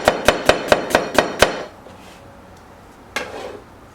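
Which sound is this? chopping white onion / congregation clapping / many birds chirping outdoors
chopping white onion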